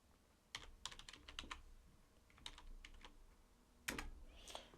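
Close, quiet typing on a computer keyboard, quick bursts of key presses separated by short pauses, ending with a single heavier keystroke.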